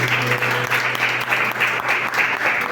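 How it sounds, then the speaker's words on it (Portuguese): A church congregation applauds during a Portuguese-language evangelical service, a steady, dense wash of clapping hands that stays loud and even throughout, with a low sustained tone beneath it. "Pode aplaudir o Senhor"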